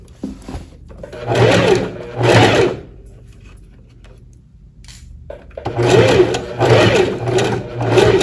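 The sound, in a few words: sewing machine stitching a blouse neckline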